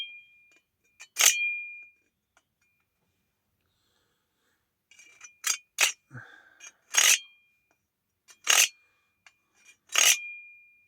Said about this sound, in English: this triangle allows the knife blade to be sharpened